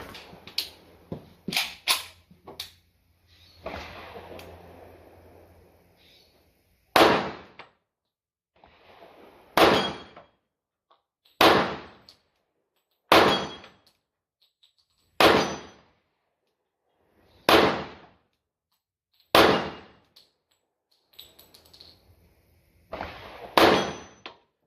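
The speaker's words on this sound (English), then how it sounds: "We'll shoot the 45s, and then we'll move into the carry ammunition" A .45 pistol firing target ammunition: an opening burst of quick sharp shots, then single reports spaced about two seconds apart, each a crisp bang that decays quickly, with faint handling noise between them.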